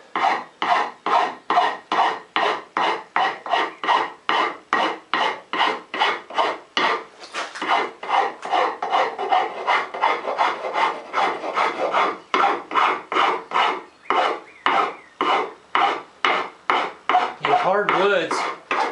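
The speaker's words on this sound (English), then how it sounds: "I would take a regular half-round coarse rasp, coarse file, and take out those marks from the Shinto rasp." A coarse half-round rasp filing a hand-carved wooden stool seat, long even strokes repeating in a steady rhythm, about two per second, loud and close with no talking.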